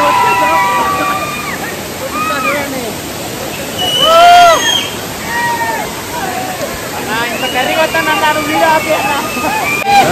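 A monsoon waterfall at Manuguru roars in a continuous wash of falling water, with a crowd of people chattering and calling out nearby over the steady rush.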